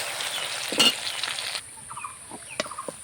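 A flipped egg frying in hot mustard oil, a bright sizzle with a spatula scrape that then falls to a softer steady crackle broken by occasional sharp pops and clicks.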